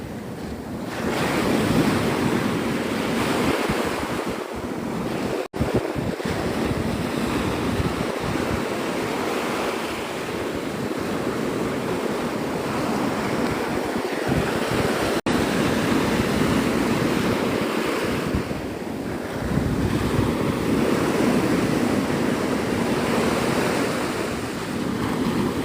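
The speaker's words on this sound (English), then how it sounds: "I thought the wind was going to get worse, but not really." Steady wind over the surf at Navarre Beach at sunrise, a continuous loud roar of breaking waves with gusty microphone buffeting throughout and two sharp clicks, no voices.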